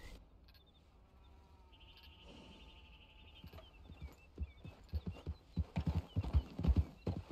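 A ridden horse walks with crisp, rhythmic clip-clop hooves that grow louder and more frequent. The hoofbeats come over a quiet outdoor background, with a brief whinny and a light high tone earlier on.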